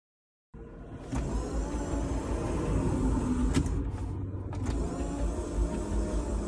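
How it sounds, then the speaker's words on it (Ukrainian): A worn car, battered after heavy driving around the Kharkiv region, rumbles and rattles with a steady low drone and a few sharp creaks and knocks, starting abruptly and continuing close up. "Так звучить наш автомобіль після того, як він поїздив по Харківській області"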